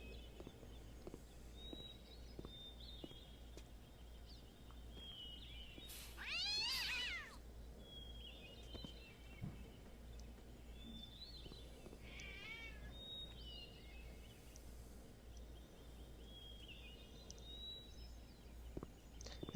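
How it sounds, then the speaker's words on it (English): Cat in the video game Gabriel Knight 3, sprayed and yowling: one loud drawn-out wavering meow-yowl, then a shorter fainter cry later, over a steady low ambient hum with faint bird-like chirps. "I can spray the cat and get him to run away."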